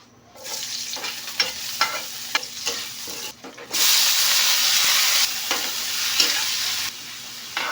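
Garlic and ginger fry in hot oil for a chicken curry, sizzling and hissing while a utensil scrapes and taps against the pan. The sizzle swells louder midway and holds steady near the end.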